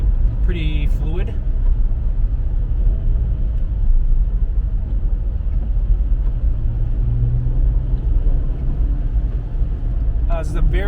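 A Jaguar XE SV Project 8 rolls at about 20 mph in sport mode, giving a steady low road and engine rumble throughout while someone talks over it.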